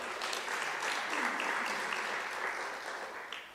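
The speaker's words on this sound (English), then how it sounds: "Let's clap hands for them." Steady audience applause from conference attendees honoring rural farm-worker chemistry teachers, many hands clapping in a dense wash that swells and then tapers toward the end.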